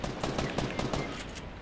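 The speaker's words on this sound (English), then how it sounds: "There's a gunfire over there." Rapid bursts of gunfire from the video game Fortnite crackle in a dense, continuous barrage, harsh and noisy, with no clear gaps between shots.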